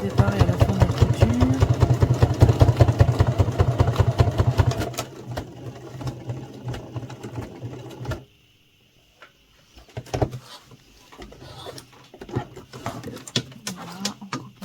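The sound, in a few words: sewing machine stitching a seam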